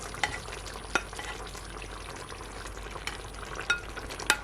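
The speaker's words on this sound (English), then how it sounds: "now guys, I'm gonna add my pasta" Pasta being added and mixed into a one-pot brown stewed chicken, a spoon scraping and clacking against the pot over a low continuous simmering hiss, several sharper knocks spaced out.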